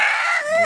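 A chicken gives a short loud squawking call up close, a single brief cry with no talking.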